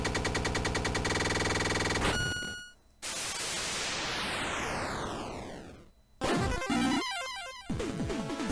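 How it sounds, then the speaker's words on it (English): A shotgun fires in the video game Heritage: A Dragon's Tale, with harsh bursts of noisy blasts and electronic tones broken by brief gaps and a sweeping synthetic effect. "Shotgun! Turns out she's actually weak to shotguns."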